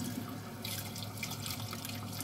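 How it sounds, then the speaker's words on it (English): Tap water runs steadily into a container being rinsed out in a kitchen, a continuous close hiss and patter of flowing water, fairly quiet and heard alone. "I'm gonna rinse this out and pour the rest in there"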